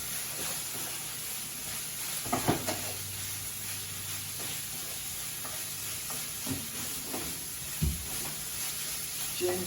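Ginger, garlic and onions sizzling with honey garlic sausage meat in a pan, a steady close frying hiss with a few scraping stirs, no talk.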